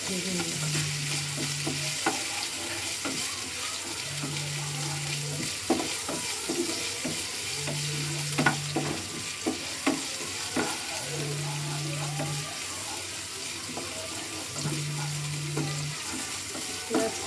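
Chopped onions and green chilies sizzling steadily in a pan for mushroom masala, with occasional stirring scrapes and a faint repeating electronic beep in the background.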